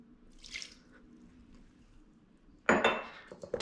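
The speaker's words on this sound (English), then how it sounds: "Then we'll get the water in here." Water poured from a container into a mixing bowl while making poolish pizza dough, a sudden splashing burst that runs to the end after a quiet stretch with a faint drip.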